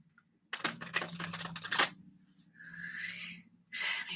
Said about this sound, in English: I cannot shuffle this deck.